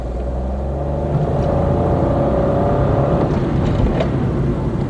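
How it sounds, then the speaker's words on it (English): A Kia Picanto pulls away hard in second gear, its engine droning steadily with a rising tone over low road rumble, close and continuous. "let's go into second gear. Let's make this turn over here, and let's quickly go. Put my foot down."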